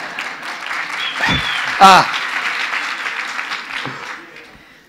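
Scattered audience applause at a round-table conference, clapping running under a short voiced exclamation and fading out toward the end.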